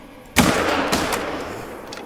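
A single loud rifle shot fired in the hunting game The Hunter: Call of the Wild, a sharp close crack followed by a rolling outdoor echo and a fading tail.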